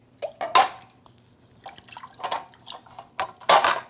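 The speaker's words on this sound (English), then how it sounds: "What I'm gonna do is quickly dip it in this warm water." A mould is dipped into warm water, with repeated soft splashes and dripping liquid in short, uneven bursts, close by and with no one speaking.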